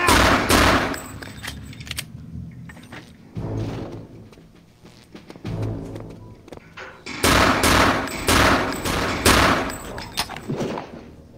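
Repeated bursts of rapid automatic gunfire in the VR version of the shooter Return to Castle Wolfenstein, loud and close, with short pauses between bursts.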